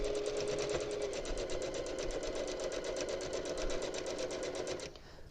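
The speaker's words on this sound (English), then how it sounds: "So we're going to begin sewing, and I always do a little bit of a back stitch at the beginning." A sewing machine stitches binding onto a quilt in a fast, even run of needle strikes that carries on for nearly five seconds and then stops abruptly; close, steady and alone.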